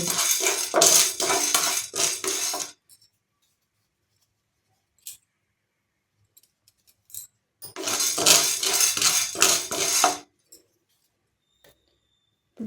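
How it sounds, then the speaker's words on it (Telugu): Chana dal being dry-roasted in a pan over a medium flame on a stove, giving bursts of dense rattling and clinking as the lentils are stirred, in two clear bouts separated by near silence and faint ticks. "వన్ బై వన్ వేపించుకుందామే శనగపప్పు శనగపప్పు తొందరగా వేగదు కదండి"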